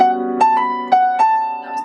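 Solo piano plays a short jazz lick: a handful of crisp, clearly separated notes and chords over a sustained low tone, close and clean, with no talking.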